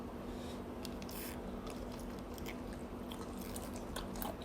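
Crispy squid wing is bitten and chewed close to the mic, with faint crunchy bites and squishy chewing against a steady background hum.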